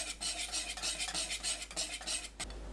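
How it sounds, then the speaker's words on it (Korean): A batter of pancake mix and flour being stirred in a bowl for a Korean green onion pancake, with quick rhythmic swishing and soft utensil clinks, close and continuous before a brief stop. "부침가루 50g, 밀가루 100g 넣고 섞어주세요"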